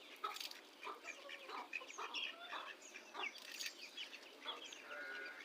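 Chickens, ducks and chicks cluck and chirp busily while feeding on a farm in summer, with dense overlapping calls close by and no talk over them.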